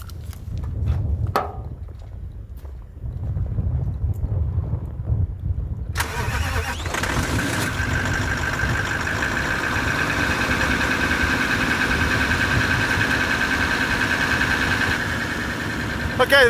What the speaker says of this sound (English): Let's start the engine up. We'll idle it up, let it warm up for 5 minutes